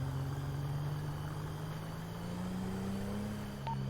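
Wrecked, badly damaged car in a GTA role-play game idling with a steady, low, rough engine hum, close and constant throughout, with a faint brief tone near the end.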